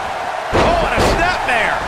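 Toy wrestlers slam into a toy wrestling ring, producing a sharp, close plastic thump followed by a short rattle, heard under excited commentary.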